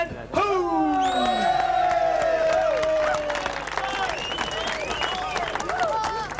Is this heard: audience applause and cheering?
yes